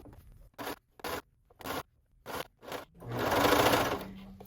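A coverstitch sewing machine runs in several short, loud bursts with gaps between them, then settles into a longer steady whirring run while stitching a seam in the round.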